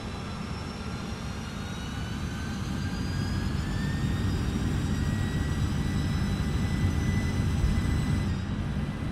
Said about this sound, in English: You guys listen to the sights and sounds of the takeoff.